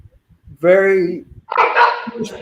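A rescue dog gives a single drawn-out bark, followed by a rougher second bark or yelp, with quiet gaps around them.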